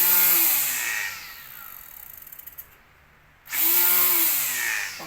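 A battery-powered portable grass cutter with two batteries whirs loudly at a steady pitch, cuts out briefly into near silence, then spins back up just as strongly for the rest of the clip.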